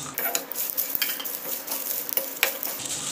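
Cumin and fennel seeds dry-roasting in a pan for homemade garam masala, stirred continuously so a busy rattling scrape and clatter rides over a soft crackle, close and fairly loud, with no talk.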